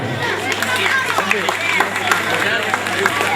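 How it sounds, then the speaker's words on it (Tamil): Attendees at a school centenary celebration in a hall give a sustained round of clapping, with crowd chatter and babble mingling throughout the applause. "ஒரு நல்ல ஒரு கைத்தட்டு கொடுங்க"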